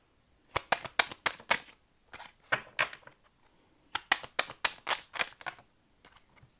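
A deck of tarot cards is shuffled by hand in quick bursts of crisp riffling and flicking, grouped into several runs of rapid snaps with short pauses between them. The sound is close and there is no talking.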